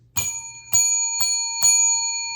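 A bright bell rings four times at an even pace, each strike clear and ringing on under the next with nothing else heard.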